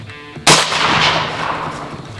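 A single sharp, loud rifle shot from a .223 with a thermal scope cracks out and then rolls into a fading outdoor echo, fired on a hog hunt in Texas.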